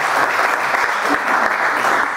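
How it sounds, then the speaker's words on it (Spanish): An audience at a seminar applauding for a woman named Whitney, a thick, steady roar of many hands clapping together, loud and sustained with no pause. "al tiro aplauso para Whitney porque en realidad se atrevió"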